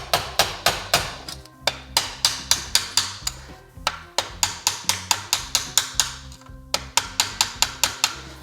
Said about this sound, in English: with the hammer and the screwdriver, you can remove the screws